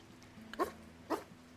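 A wolf barking in a video game, two short sharp barks about half a second apart, moderately close over a low background hum.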